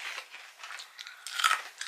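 Crunchy banana cake snack being chewed close to the mic, with a series of short crisp crunches and bites in irregular rhythm, fairly quiet and with no talking.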